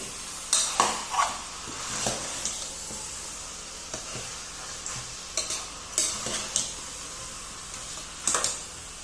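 Chicken frying with tomatoes sizzles in a pan while a spoon stirs it, giving a steady hiss broken by repeated scraping clacks against the metal, close and without talk.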